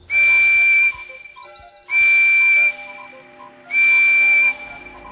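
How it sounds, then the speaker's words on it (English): Thomas and Friends steam engine whistle: three loud, clear, sustained high whistle blasts, each nearly a second long, separated by short pauses with softer tones between. "Here comes my whistle."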